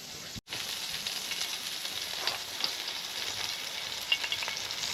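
Steady, bright sizzling of burgers frying in a pan, a continuous crackle and hiss with a few sharper pops, close up and with no talking.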